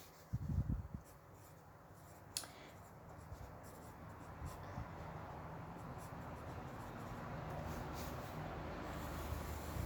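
A pen scratches and rubs across paper while someone writes notes and draws small arrows. Faint, close strokes continue steadily after a brief louder thump at the start, with no talk.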